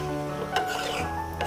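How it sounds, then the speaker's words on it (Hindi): Mango puree stirred in a kadhai on a gas stove for mango barfi, heard as short, close scraping and rubbing strokes of a spoon over a steady low hum. "जो प्यूरे रखी है गैस पे तो उसे हिलाते रहना है ताकि वो जलने ना पाए"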